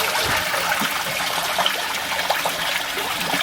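Water spills steadily through the overflow of a koi pond filter box, giving a close, continuous splashing and trickling rush with small gurgling spatters and no pauses.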